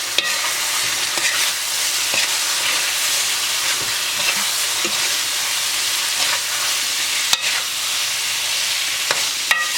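Spiced okra with kasuri methi being mixed in a pan for bhindi do pyaza, a loud continuous frying hiss broken by repeated scraping spoon strokes and occasional sharp clicks against the pan.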